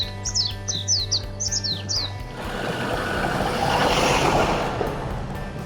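A bird sings a clear, repeated series of bright chirping phrases in a cypress forest on a trail on Yeongchwisan mountain in Yeosu, South Korea, close and distinct for about two seconds before a passing car's rumble swells and drowns it out.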